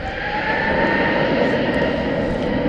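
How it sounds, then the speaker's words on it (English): Alaska Airlines Boeing 737-800 jet at DFW airport, a steady loud roar with a high whine on top, close and unbroken throughout. "There's Alaska flight 780. It's a 737-800 going to San Diego."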